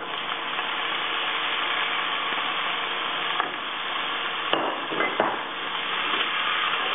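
Tomato is stirred into onion frying in a pot for lentil soup, producing a constant close sizzle broken by a few soft scraping knocks of the spoon.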